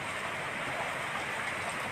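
Rain falling outdoors in Korangi, Karachi, a steady even hiss with no distinct drops or pauses, moderately loud and unbroken throughout.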